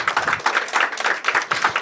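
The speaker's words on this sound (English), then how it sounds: "let's just give Atul Gawande, the USAID Assistant Administrator, a round of applause" An audience at a United Nations media breakfast on tuberculosis applauds USAID Assistant Administrator Atul Gawande, brisk steady clapping filling the room, close and fairly loud, without talk.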